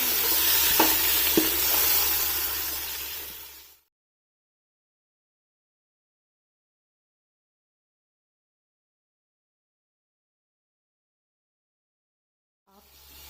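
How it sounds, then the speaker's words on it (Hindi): Lamb pieces frying in a pot with onions and garlic, a loud close sizzle with stirring for about four seconds, then silence before a brief return of sizzling at the end. "अब इस गोश्त को इसमें तकरीबन 5 से 6 मिनट तक अच्छी तरह भून लेना है ताकि ये गोल्डन ब्राउन हो जाए"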